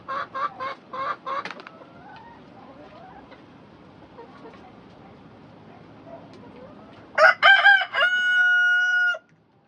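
Chickens cluck in short bursts, followed by a loud rooster crow near the end, over a quiet background hum.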